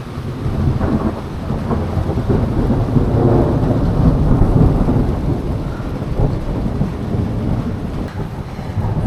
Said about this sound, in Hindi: ये देखो बिजली भी कड़क रही है